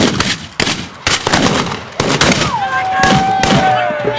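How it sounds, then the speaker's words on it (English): Blunderbuss volley fired by a pirate privateer line at a Florida Renaissance fair: a string of loud, sharp blasts in an irregular rhythm, with a thin whistling tone running through the later shots. "Blunderbuss line, are you ready? Aye! Fire in the hole."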